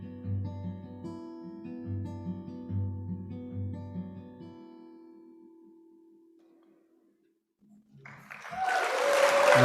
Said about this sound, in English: That's before the applause.